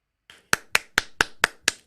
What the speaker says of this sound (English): that gets an Right? applause.